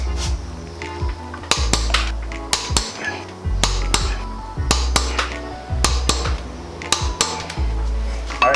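Mechanic's tools clank and click in a garage as Mazda Miata NA flywheel bolts are torqued to a final 73 foot-pound stage, a pry bar holding the flywheel; sharp metallic clicks and knocks repeat about every second, close and fairly loud.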